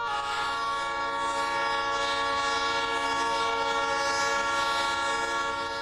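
A 1948 BL2 diesel locomotive hauling a 500-ton excursion train sounds its horn in one long, loud, unbroken chord, with the rumble of the train beneath and no talk.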